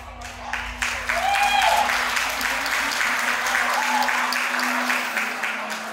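A wedding banquet hall crowd applauding as the groom enters, sustained clapping swelling after the first second and holding steady, with a voice and music faintly underneath.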